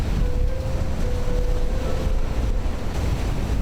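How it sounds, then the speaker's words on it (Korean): Wind-driven waves wash in steadily on Qinghai Lake, a broad continuous roar of surf mixed with strong wind buffeting, with a faint thin tone running through the first half. "세찬 바람에 밀려 다가오는 파도"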